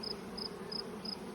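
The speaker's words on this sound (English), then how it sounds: "all the brood that's being reared right now are little winter bees" Winter honey bees buzz inside a hive during a buckwheat honey flow, a faint, steady hum with soft high whines pulsing at regular intervals, heard alone with no voices.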